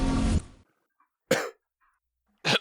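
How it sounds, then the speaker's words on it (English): Two separate coughs, sharp and close, with a short pause between them, following a brief burst of louder noise at the start. "It's just coughing"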